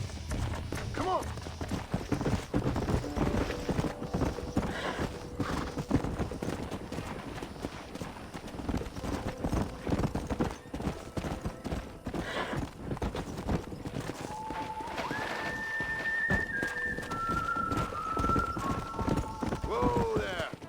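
Horse hooves clip-clop steadily at a walking pace in Red Dead Redemption, with a horse whinnying near the end and voices talking over the hoofbeats.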